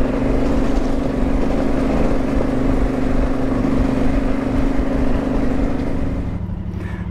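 An adventure motorcycle engine chugs along in third gear on a Kent trail route, a loud, steady, low rumbling drone close to the listener that eases off slightly near the end.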